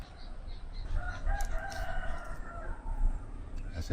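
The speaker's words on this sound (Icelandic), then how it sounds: "Þessir hanar hérna, þeir byrjuðu í morgun bara 5 eða 6 örugglega." Roosters crowing at a rural spot near Chiang Mai, Thailand, with a drawn-out cock-a-doodle-doo over a steady outdoor background and faint clucking, moderately loud and with no talk.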